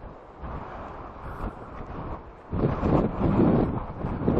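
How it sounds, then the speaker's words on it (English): Strong wind buffets the microphone outdoors in a town in Tasmania, a rough, low roar that gusts moderately at first and then surges louder and more forcefully in the second half, with no talking. "So windy, man, so windy."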